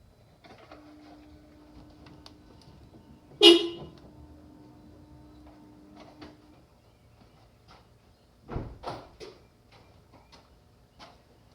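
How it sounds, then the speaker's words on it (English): The horn of a 2012 Toyota RAV4 sounds once in a steady tone of a few seconds in a quiet garage, followed later by a few clattering knocks of tools or parts. "I accidentally hit the horn while turning the wheel"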